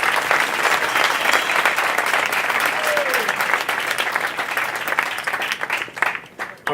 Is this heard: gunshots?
no